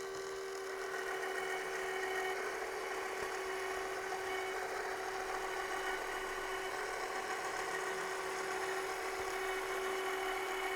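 Bosch GCG 18V-310 cordless caulking gun running steadily, a continuous close motor drone with a constant tonal hum that stays level throughout, alone without talking.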